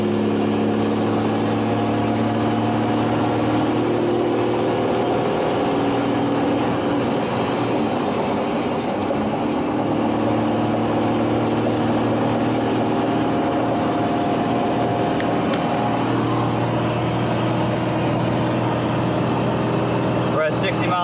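A 1994 Dodge Ram 3500 with the 12 valve diesel and 47RH transmission cruising at highway speed, a steady, loud, close engine drone with road rumble and no break throughout.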